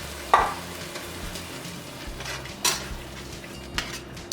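Tomato sauce and tomatoes being stirred in a pan over medium-high heat, a soft scraping and gentle sizzle with a few sharp utensil knocks against the pan, close and steady with no talking.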